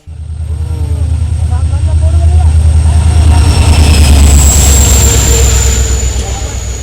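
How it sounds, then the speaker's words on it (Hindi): A train approaching on a cold evening, a loud, steadily building low rumble and rhythmic rail clatter with a horn-like tone, close by, with people talking over it. "वाह देखो ट्रेन भी आने वाला है।"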